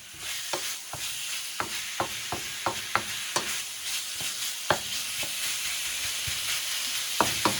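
Wooden spoon stirring bami goreng in an electric wok, a steady hiss of frying under a run of distinct taps and scrapes coming at irregular intervals, close by.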